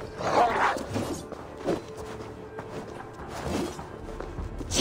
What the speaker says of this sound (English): that's a wolf.